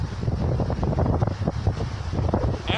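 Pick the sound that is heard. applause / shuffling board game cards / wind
wind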